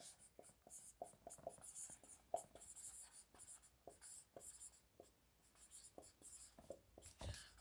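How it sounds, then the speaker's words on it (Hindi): Pen scratching on paper in short strokes and taps as notes are written by hand, quiet and close, irregular bursts with brief pauses. "तो ये मैं यहां पर लिख देता हूं"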